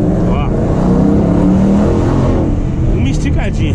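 A Ford Mustang GT 5.0 accelerates hard, its engine roaring loud, close and continuous for the whole stretch, with a voice briefly heard over it.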